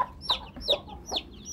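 Free-range caipira chickens cluck in short, repeated bursts close by, three or four sharp calls in quick succession with no other sounds.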